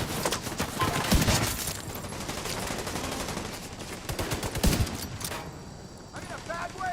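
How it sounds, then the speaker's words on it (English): Bursts of gunfire in The Division 2, rapid automatic fire with sharp louder shots around the first and fifth seconds, under urgent game dialogue and a continuous background din. "We've got one shooting us over the"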